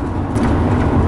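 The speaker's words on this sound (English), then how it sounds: "I'm driving, we are driving." Car driving along a road, a steady low engine and road rumble filling the short stretch with no talk over it.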